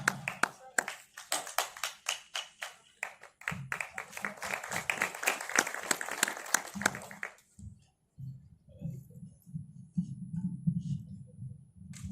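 Audience clapping to welcome a poet at a Hindi poetry gathering for a Krishna festival, a run of sharp, close hand claps for several seconds before a voice takes over and talk continues.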